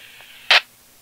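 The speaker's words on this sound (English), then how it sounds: "That sound you heard was the feedback from the repeater that indicates you've hit the repeater." A brief squelch burst from a ham radio repeater answers right after a transmission through a J-pole antenna, a single short hissing tone standing out above faint static, with no voices.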